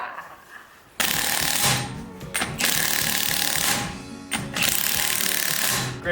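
Impact wrench zipping off lug nuts from Krager SS wheels on a '65 Mustang: a quiet lead-in, then loud sustained rattling bursts with brief breaks between them, no talking.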